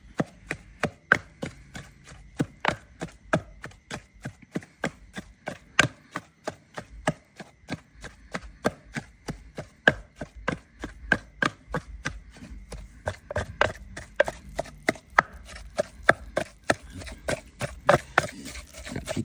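Beef larb ingredients pounded together in a mortar, a steady run of sharp, close thuds keeping a brisk regular rhythm throughout, with no talk.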